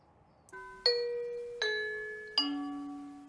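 A UniFi Doorbell Lite video doorbell plays its indoor chime, a soft lead-in tone followed by three clear ringing notes, each struck a moment apart and left to decay in a quiet room.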